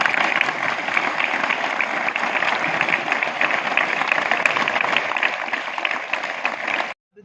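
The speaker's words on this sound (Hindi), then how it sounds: "एक बार और ताली बजाओ।" A crowd applauds at an environmental event, sustained dense clapping at steady volume for several seconds that cuts off abruptly near the end.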